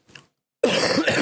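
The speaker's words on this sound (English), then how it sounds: "I'm not coughing as bad, though" A man with an upper respiratory illness gives a faint short cough, then after a pause clears his throat loudly and harshly up close.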